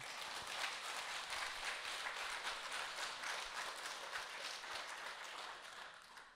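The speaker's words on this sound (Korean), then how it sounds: "그분에게 박수 한번 쳐주세요." Steady applause from an audience at a meditation forum lecture, a dense wash of clapping that holds evenly for several seconds before fading slightly at the end.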